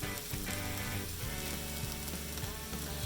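Mushrooms sizzle steadily as they fry in a pan for breakfast tacos, giving a dense, continuous crackling hiss with faint stirring clatter and no talking over it.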